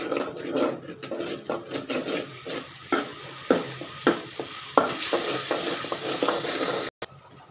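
Melted tomatoes with turmeric and chili powder are stirred and sautéed in a pan for fish curry, giving a steady sizzle broken by repeated scraping strokes of a spatula, close and alone, ending in a sharp knock.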